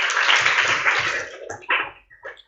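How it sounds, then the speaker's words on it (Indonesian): A classroom group of trainee teachers applauds group 1: a dense burst of clapping for about a second and a half, then a few scattered, trailing claps fading out. "Tepuk tangan untuk kelompok 1."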